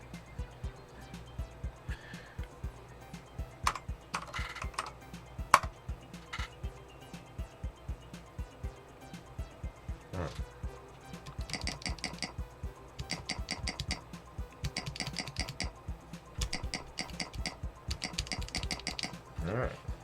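Typing on a DNA65 mechanical keyboard with lubed switches gives a steady patter of soft clacks, scattered at first, then in dense bursts, heard close and fairly quiet.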